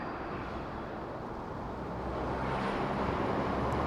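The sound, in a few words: trucks driving on an expressway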